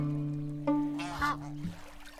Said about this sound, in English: Noisy swans.